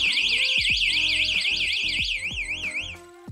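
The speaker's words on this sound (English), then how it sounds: "It has a strobing red light and a siren to alert occupants." Carbon-X AS1 CO2 alarm station siren, a 120-volt unit with a strobing red light, wails in a steady rising-and-falling electronic tone, loud and close, over rhythmic pulsing beeps and lower chirps.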